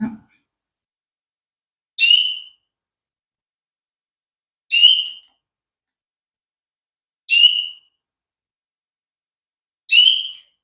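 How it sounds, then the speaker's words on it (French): Birds singing outdoors, heard as four short, clear whistled chirps spaced a couple of seconds apart, isolated in near silence with a faint mid-distance quality. "Alors là, vous entendez les oiseaux."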